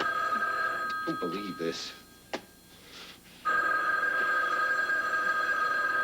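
A telephone bell rings in loud bursts, stops briefly while a person talks, then resumes with a sustained ring.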